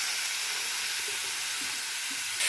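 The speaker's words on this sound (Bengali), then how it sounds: "ঘি আর তেল একসাথে মিশ্রণ করে দিলাম" Ghee and oil sizzle and hiss in a wok during frying, a dense, steady crackling hiss at close range, slightly louder at the very end, with no speech.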